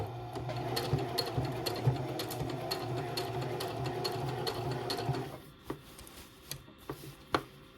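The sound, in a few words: sewing machine stitching fabric for a tote bag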